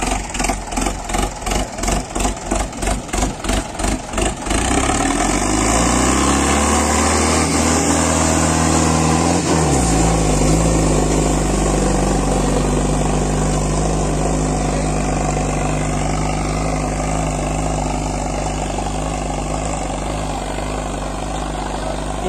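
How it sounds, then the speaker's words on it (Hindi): An Indo Farm 3055 tractor, a 60 horsepower demo unit with a 16-disc harrow, cranks with rapid chugging pulses, then catches and settles into a loud, steady diesel idle close by in a Haryana village. "यह हमारा 30-55 डेमो का ट्रैक्टर"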